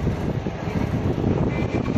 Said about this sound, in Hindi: भाई अभी भी गर्म हवा चल रही है